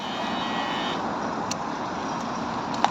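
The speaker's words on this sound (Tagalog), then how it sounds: "daming sasakyan guys, tatawid tayo" Road traffic rumbles as a broad, steady motor drone of passing cars and heavy vehicles, loud and continuous, with a brief higher whine near the middle and a short sharp sound at the end.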